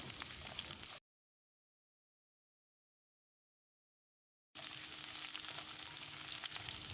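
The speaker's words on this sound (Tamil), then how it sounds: "1 கொத்து கறிவேப்பிலை. 1 நிமிஷம் இதை வதக்கிடலாம்." Shallots and curry leaves sauté in a pan for chicken curry, giving a dense, even crackling sizzle that cuts out completely into dead silence for several seconds, then resumes just as strong.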